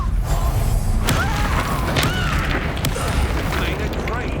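Spell explosions in the Hogwarts Legacy video game, a loud sustained rumbling blast with a sharp crack near the one-second mark, followed by rolling booms and crackling debris, with no speech over it.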